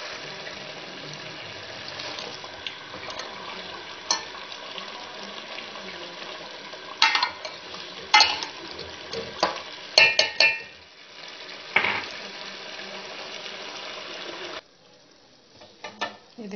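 Potatoes tipped into a pot of spinach with a little water, faint watery stirring and soft splashes with a few sharper clatters and scrapes near the middle, then quieter at the end.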